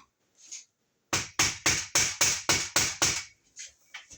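A hammer taps an electrical fitting into place while an outlet is added on the load side of a GFCI receptacle, with seven quick, sharp, evenly spaced taps in a row, close by, then a few lighter knocks.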